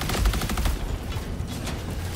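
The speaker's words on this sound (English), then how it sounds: "We got a sentry gun." A sentry gun in the Helldivers 2 video game fires rapid bursts of automatic gunfire, dense and continuous over about two seconds, at moderate loudness.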